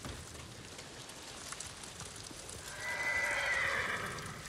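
Horses whinny loudly near the end in the video game Ghost of Tsushima, over a steady wash of ambient noise, with faint hoof clopping underneath.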